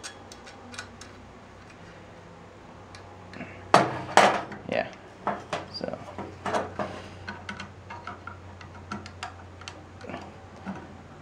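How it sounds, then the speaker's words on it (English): Metal nuts being fastened onto a vintage fluorescent light fixture during its LED conversion, giving a run of sharp metallic ticks and clinks, one louder knock near the middle, in a quiet room. "we're going to put these nuts on here anyway"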